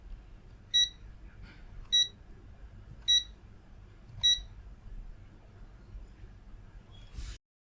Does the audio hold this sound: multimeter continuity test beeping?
yes